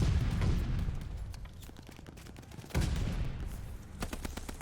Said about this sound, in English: No way, he just shot me. Oh, that was a sniper.